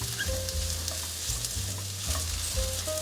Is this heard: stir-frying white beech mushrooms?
yes